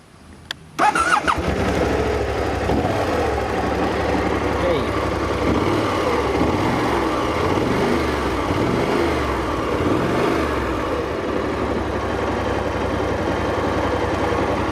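A BMW C600 Sport maxi scooter starts with a brief crank and quickly settles into a loud, steady idle that drones on close by for the rest of the time.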